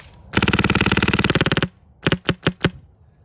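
A tuned Polarstar airsoft gun fires BBs close by, first a long rapid full-auto burst of sharp, evenly spaced cracks, then a brief pause and four separate single shots.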